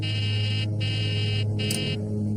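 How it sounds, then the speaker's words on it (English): An overspeed warning alarm sounds in an aircraft cockpit as a loud steady electronic tone over engine hum, cutting out briefly twice before resuming. "The overspeed warning tells the crew that they are approaching 350 knots"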